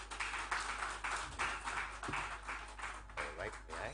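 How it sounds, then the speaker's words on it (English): An audience at a business forum claps in a round of applause, a scattered patter of hands that swells and dips in uneven waves, with a low steady hum running underneath. "A round of applause as they come"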